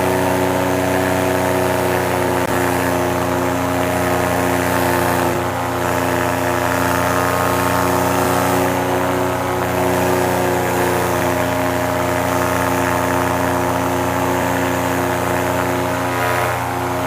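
A paramotor engine drones loud and steady in flight through bumpy thermal air, a constant buzzing propeller hum with strong harmonic tones and wind rush, continuous for the whole stretch with no talk.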